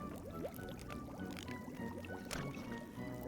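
Water pours in The Book of Unwritten Tales video game, a soft, continuous trickling and splashing at low volume that runs the whole time with small bursts, and no one talks.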